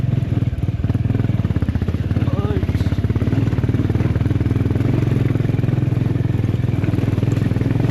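A motorcycle climbs a rocky, stony uphill mountain trail in monsoon conditions, its engine pulsing loud and close in a steady rapid thump with some clatter, and a voice talking over it.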